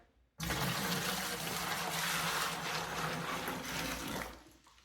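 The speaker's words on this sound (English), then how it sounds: "Once that's fully dissolved, I'm gonna go ahead and pour it all in here." Dissolved cure liquid for hog meat is poured into a container in a continuous loud splashing gush that starts abruptly and tapers at the end, with no speech.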